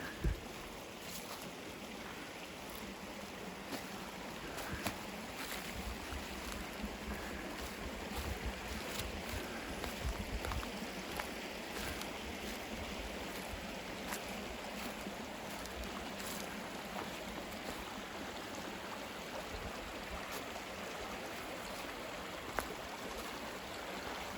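A creek swollen by rain and snowmelt rushes past a trail crossing on the North Country Trail, a faint, steady wash of flowing water with occasional small knocks and no speech.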